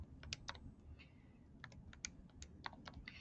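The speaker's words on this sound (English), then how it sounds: "I'm going to type in my equation to list 3." An equation being keyed into a calculator: a quick, irregular run of small plastic button clicks, close and quiet, with no voices.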